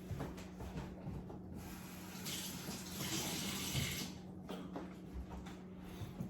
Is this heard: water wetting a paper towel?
yes